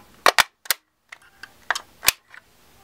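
Magazine release on a Czech Vz 2008 rifle, a Vz 58 variant, pressed and an aluminum alloy magazine pulled free, giving a handful of sharp metallic clicks and clacks, close and loud, spaced irregularly over a few seconds with no talking.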